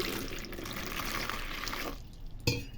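A steady, soft stream of water poured for about two seconds, then it stops, followed by a faint clink.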